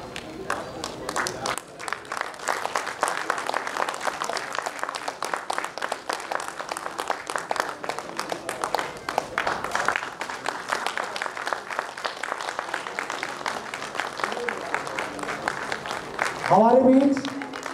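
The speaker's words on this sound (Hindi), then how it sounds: "हाथ ताली रुकना नहीं चाहिए।" An audience at a Sahu Samaj gathering applauds in sustained, dense clapping that runs nearly continuously and fairly loudly, with a brief burst of other noise near the end.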